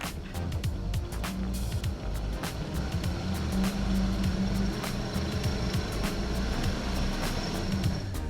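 A 2021 Nissan Rogue's engine revs steadily in normal mode while the SUV sits stuck on a slip test, with a continuous loud drone and some rumble over 8 seconds, without talk.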